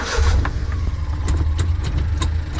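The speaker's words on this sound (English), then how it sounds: "I'll say the engine already sounds happier with that extra bit of oil in it" A 1998 Honda Acty mini truck's small engine idles steadily nearby, a low even hum with faint clicks and rattles on top.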